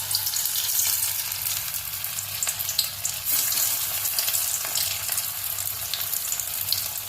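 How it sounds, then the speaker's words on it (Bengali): Bread pakoras frying in hot oil, a steady dense crackling sizzle close up that continues throughout, with occasional faint stirring clinks and no talking. "এখন এক এক করে ভাজবো।"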